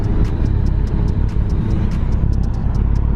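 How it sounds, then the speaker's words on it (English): A race car engine roars continuously and loudly nearby, a dense rumbling drone with faint clicking on top. "It's a race car."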